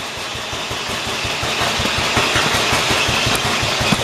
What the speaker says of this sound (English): it's idling real good